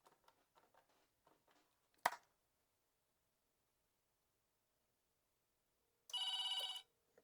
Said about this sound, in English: now just the one extension rings